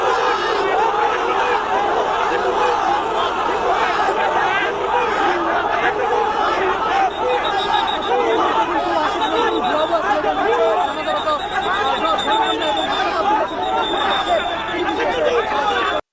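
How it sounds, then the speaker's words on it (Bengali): A large crowd chants protest slogans, shouting "fake, fake" in unison. The chanting is loud, dense and sustained, with overlapping voices and a rough, rhythmic roar throughout. "ভুয়া ভুয়া স্লোগান দেয়।"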